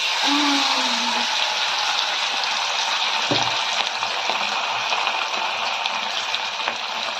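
Fish frying in hot oil in a home kitchen, a steady broadband sizzle running throughout at close range, with a brief voice near the start.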